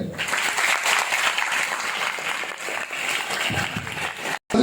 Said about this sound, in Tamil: ஜோர கைத்தட்ட.